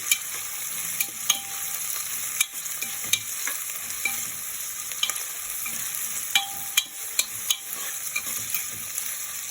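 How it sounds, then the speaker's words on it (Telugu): Mutton curry with chopped onions and green chillies sizzles steadily in a pan, broken by frequent scraping clicks and knocks of a spoon stirring through it, close and continuous with no talking. "ఇలా బాగా ఫ్రై అయిపోయినట్టు కలుపుతూ ఉండాలి."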